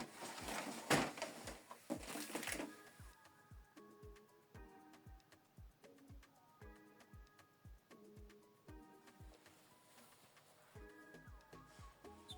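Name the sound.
HP Envy 6120e printer starting up after switch-on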